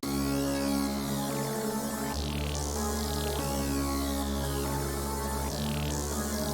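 Glitchy synth texture with EQs cutting out lows, highs and some mids: a dense, steady, buzzy drone with periodic swooping glitch sweeps recurring every couple of seconds, loud and continuous with no voices.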